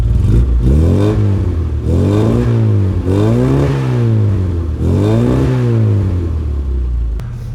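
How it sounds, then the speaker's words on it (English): The exhaust of a classic Mini Cooper with throttle blips, about three loud, close revs that sweep up and fall back over a rumbling idle, with a short sharp clatter at the end. "I want you to hear that exhaust."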